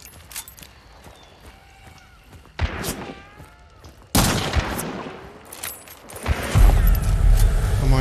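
Gunfire in the multiplayer shooter game Hunt: Showdown, with sharp, loud shots near the 3- and 4-second marks and heavy rumbling blasts toward the end, mixed with horse hooves and whinnies in the game world.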